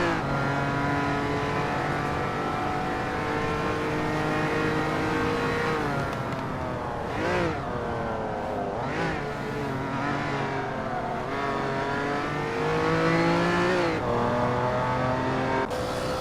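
Race cars from the Hot Wheels: Universe Zero video game roar continuously, engine pitch rising and falling with several quick revving sweeps and passing whooshes, loud and close with no talking.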